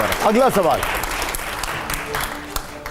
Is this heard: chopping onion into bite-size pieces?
no